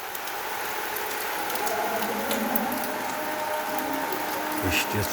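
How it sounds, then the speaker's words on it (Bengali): Heavy monsoon rain pours at dawn in a dense, steady hiss of water, with scattered louder drips and splashes close by. "ঝরঝর বৃষ্টি ঝরছে।"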